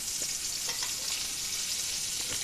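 Cumin seeds frying in hot oil in a pan, a steady bright sizzle with soft crackles and light stirring scrapes, close up and continuous.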